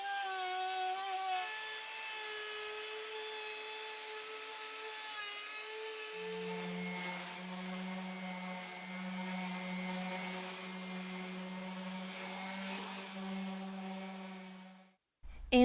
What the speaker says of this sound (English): route both of the counters with a round over bit to get it nice and smooth